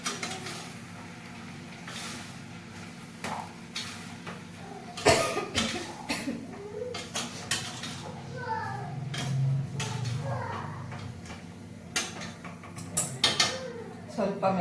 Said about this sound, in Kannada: ಹಾಗಾಗಿ ಕೆಮ್ಮು ಬರ್ತಾ ಇದೆ